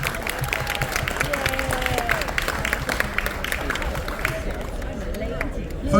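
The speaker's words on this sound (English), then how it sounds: "If we can give Captain Medina and our senior officers a round of applause." Cruise ship audience on the Carnival Splendor applauding the captain and senior officers, a steady wash of clapping and crowd murmur filling the room at moderate level, with an amplified voice and music tones running over it.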